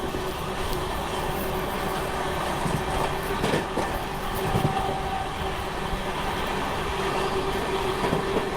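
The Amrit Bharat Express, running as 13698 from Delhi to Gaya, rolls along the rails with a loud continuous rumble heard from on board. A faint tone and occasional clatter rise above the rumble.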